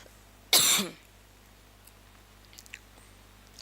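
A single sharp cough from a woman, loud and close, lasting about half a second, followed by quiet room tone with a few faint small clicks.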